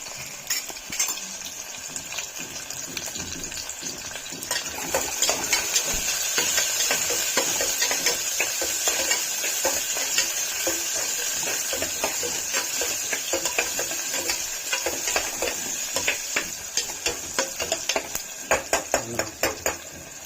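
Ginger and garlic frying with onion in a pan for egg pasta, giving a steady close hiss with repeated scraping and stirring clicks of a utensil against the pan throughout.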